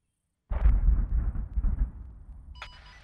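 An A-10 Thunderbolt II strafing run in ArmA 3 arrives as a sudden, heavy burst of rapid cannon fire, a dense roaring rumble lasting a couple of seconds before thinning out, with a faint radio beep at the end.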